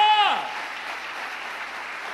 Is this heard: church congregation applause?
yes